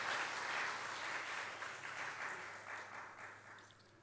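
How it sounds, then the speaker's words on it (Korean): A church congregation applauds during a Sunday worship service, a steady wash of clapping from many hands that holds throughout and slowly tapers near the end, with no talking over it. "하나님께 영광의 박수를 드리겠습니다"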